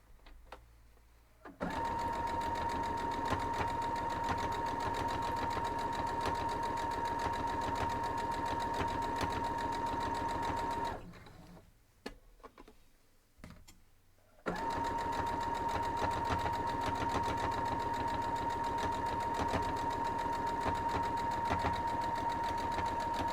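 A sewing machine stitching a cloth napkin, a steady loud mechanical whir that runs continuously, pauses briefly for a few clicks and handling sounds, then resumes at the same even pace.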